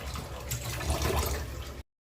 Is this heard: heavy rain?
no